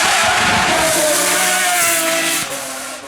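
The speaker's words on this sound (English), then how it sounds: "It's the 6 litre. Big V12 in the back. 800 horsepower." A Pagani Zonda Revolución with a mid-mounted 6-litre V12 of 800 horsepower howls past at a hillclimb, loud and close. It keeps a high-pitched scream that fades slightly as the car passes.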